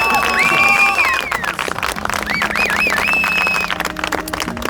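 A crowd at a surprise wedding-proposal gathering claps and cheers loudly and continuously, while a singer's melodic voice rises over the applause.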